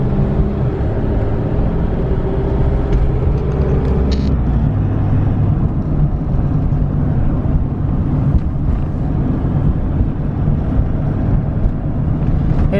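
An RV driving back towards the RV park at Disneyland Paris, with a continuous loud road and engine drone and some wind buffeting heard from inside the vehicle, and the odd passing rise in pitch.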